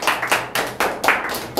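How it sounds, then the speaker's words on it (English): Audience at a self-confidence talk clapping hands: a brisk run of about seven sharp, evenly spaced claps, close and fairly loud, with no talking. "give a clapping command to Chandas, everybody, ladies and gentlemen."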